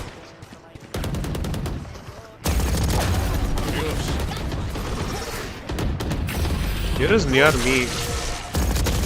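Odin machine gun firing in a Valorant esports match, bursts of rapid automatic fire mixed with game effects while casters talk loudly over the action.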